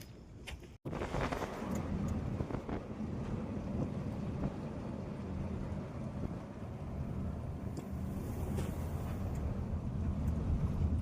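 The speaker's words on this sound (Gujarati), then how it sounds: "જોરદાર પવન ચાલુ થયો, વાવાઝોડું આવે ને એવું લાગે છે" Strong wind blows hard outdoors near Labhpura, a loud continuous rumbling roar of gusts buffeting the microphone that swells and eases without pause.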